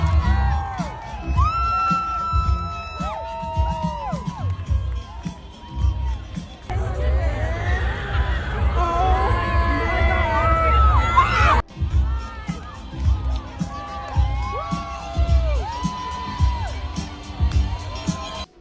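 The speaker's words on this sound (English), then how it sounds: "The festival crowd exploded the moment they appeared." A large festival crowd at Coachella cheers, whoops and shouts continuously, dense and loud, with music and a voice over the top.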